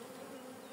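Honeybees buzzing at a beehive, a steady close drone holding evenly for a brief moment with no voices.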